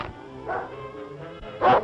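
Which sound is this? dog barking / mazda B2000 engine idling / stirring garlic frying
dog barking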